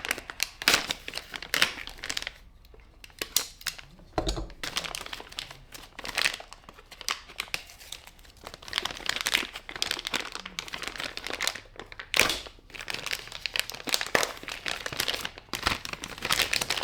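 A shipped package is unwrapped, with plastic packaging crinkling and rustling continuously and loudly up close in irregular bursts, occasional tearing crackles, no one speaking.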